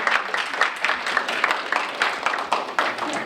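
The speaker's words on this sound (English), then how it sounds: "Applause filled the room as Jeff Walker returned to CHI Health St. El" Applause fills a hospital room at CHI Health St. Elizabeth as a group of nurses claps in a steady, moderately loud burst, with some voices mixed faintly underneath.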